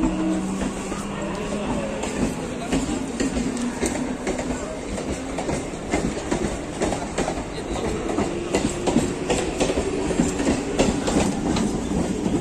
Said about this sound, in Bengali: আর আমাদের ট্রেন হচ্ছে এই মিনিট 10-15-র মধ্যেই আমাদের ট্রেন আসবে।